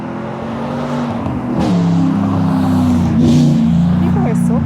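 A car drives past on a road beside a garden, its engine swelling from a distance and passing close with a rising rush, heard under a person talking outdoors.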